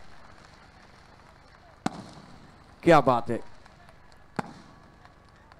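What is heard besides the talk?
fireworks at a cricket league opening ceremony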